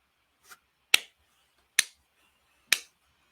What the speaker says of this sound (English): That's me slow clapping